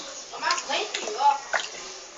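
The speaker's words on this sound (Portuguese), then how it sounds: "Dá mais banho nele. Põe mais na água aí." Water splashing as a rabbit is bathed, soft sloshes and trickles mixed under a voice talking throughout.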